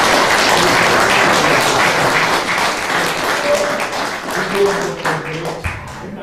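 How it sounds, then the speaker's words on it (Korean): Audience applauds at a national civic movement launch ceremony, honouring three monks present; sustained, dense clapping fills the hall throughout, with some voices mixed in. "우리 격려의 박수를"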